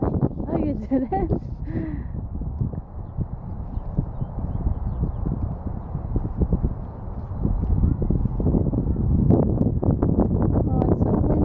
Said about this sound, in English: Oh, it's so windy, Liam.